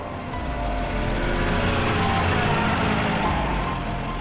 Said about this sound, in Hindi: जैसे ही गाड़ी की आवाज आई सब भागकर इकट्ठा हो गए